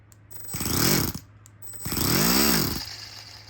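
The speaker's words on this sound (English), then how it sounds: "First time this thing's gonna spin over." A small four-stroke engine on an RC crawler, with its newly installed transmission, spins over in two bursts, each winding up and down in pitch, with a steady low hum between them and no talking.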